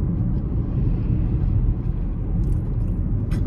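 A truck passes close on a road, its loud low rumble of engine and tires steady and continuous throughout with no talking.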